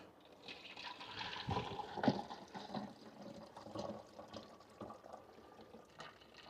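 Rainwater liquid fertiliser pours from the tap at the bottom of a garden container on an allotment, a close, continuous splashing and gurgling stream with uneven bubbling surges.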